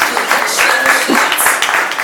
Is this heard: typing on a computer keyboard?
no